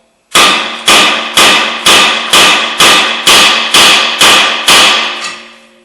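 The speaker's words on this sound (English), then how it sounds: "I usually put a pry bar in here like this and hit the face of the rotor right here a couple of times" A hammer strikes a pry bar against a rusty front brake rotor on a 2003 Toyota Highlander, ten loud, evenly spaced metallic blows ringing close by, each decaying before the next, with no talking.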